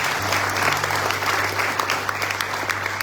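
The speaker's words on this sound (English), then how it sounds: "Please give her a round of applause" An audience at a Hindu religious gathering applauds continuously while someone speaks over the clapping, with a low electrical hum underneath.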